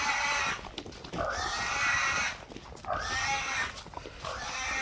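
Pigs grunt and squeal in long, harsh bursts, loud and close, with short pauses between the noisy calls.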